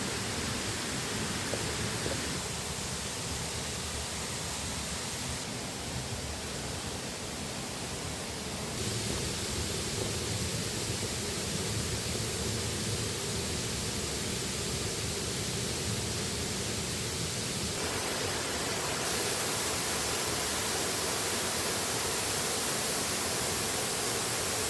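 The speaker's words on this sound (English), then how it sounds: "Just a gorgeous little waterfall." A small waterfall in a forested, mossy gorge gives a steady, full rushing roar of falling water that continues alone and unchanged throughout.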